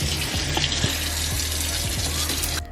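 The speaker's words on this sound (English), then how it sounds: "And now I'll fill it up with some water." Water runs steadily from a sink tap into a diffuser reservoir, a constant close hiss and splash with faint clinks, ending abruptly near the end.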